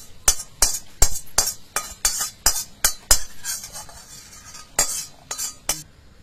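Poppy seeds dry roasting in a pan without oil, with a spoon or spatula scraping and clinking against the metal in a steady rhythm of sharp strikes, close and fairly loud, no voices.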